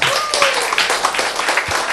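An audience at a talk on an inspirational story gives dense, lively applause, loud and close, with a voice briefly audible over the clapping.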